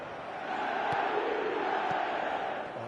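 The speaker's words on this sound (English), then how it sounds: "the crowd are reacting to that now" A stadium crowd in the FC 27 football video game roars as a steady, dense wash of cheering that holds at a constant level throughout with no pauses.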